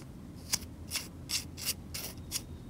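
A titanium bolt-action pen mechanism, a Nottingham Tactical TiClicker G2 Mini with gritty threads, is worked in six short, close scraping strokes at an even rhythm, with no talk.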